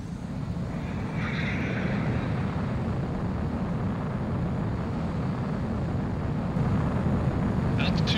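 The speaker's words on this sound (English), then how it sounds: "Mobius One, you are cleared for takeoff." A jet fighter taking off in Ace Combat 04 gives a steady, loud roaring rush of engine noise that holds evenly throughout, with faint higher whines near the start and end.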